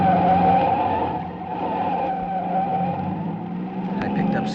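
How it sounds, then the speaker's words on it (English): A car skids onto a bridge during a chase, its tires squealing in a long, loud, sustained whine under a roaring engine. "I whipped my wheel to the right and skidded onto a bridge"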